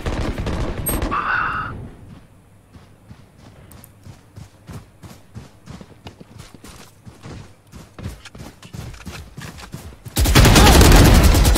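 Gunfire in the video game Valorant during a casual match: a loud opening burst, then a long run of rapid, evenly spaced shots or steps at moderate level, ending in a sudden very loud sustained blast of noise.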